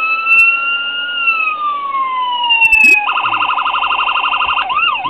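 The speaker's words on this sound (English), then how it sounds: "We hit the button for the siren. Same traditional siren." A Franklin County Sheriff Ford Crown Victoria toy police car with working lights sounds a loud, close electronic siren, first a long falling wail and then a rapid yelp pattern.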